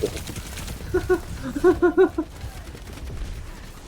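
Gunfire in the video game Overwatch 2, a short burst of rapid shots in the middle under a busy game mix with a voice present.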